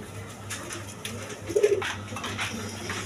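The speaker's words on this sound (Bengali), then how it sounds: "এখানে এক পেয়ার লাহোরি কবুতর" A pair of Lahori pigeons coo softly in short bursts, with one clearer throaty coo rising midway against a quiet room hum and faint clatter.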